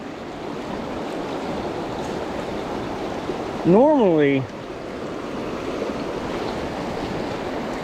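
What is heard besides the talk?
flowing pocket water in a stream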